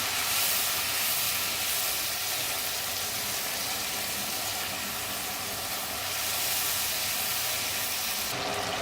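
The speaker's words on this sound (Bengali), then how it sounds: "ভালো করে এটা কষিয়ে নেব" Spice paste frying in oil in a pan, a loud, continuous hissing sizzle held close throughout, swelling slightly at moments, with no voices.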